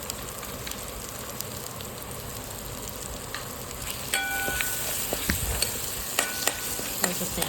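Masala with turmeric and salt frying in oil for a traditional Bhogi vegetable dish, a soft continuous sizzle with scattered crackles that grow into sharper pops and utensil clinks toward the end.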